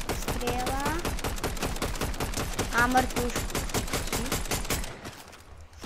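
Rapid automatic gunfire from a Fortnite match, dense bursts of shots repeating steadily for several seconds before cutting off, with someone speaking briefly over it.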